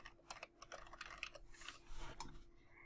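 Quick, uneven clicks of fingers typing on a computer keyboard, close and quiet, forming a short burst of keystrokes with no talking.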